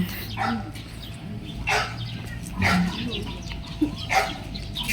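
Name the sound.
dog barking angrily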